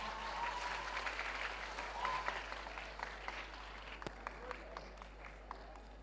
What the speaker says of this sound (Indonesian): Ya, boleh tepuk tangan anak-anak.